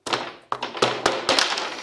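Wooden garden trellis being knocked into place on a homemade arbor, a series of close, hollow thumps and taps in an uneven rhythm of about six hits in quick succession.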